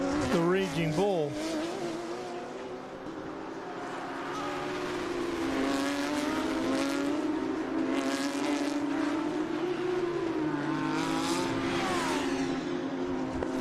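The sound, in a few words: race cars, including Porsche and Audi, racing on track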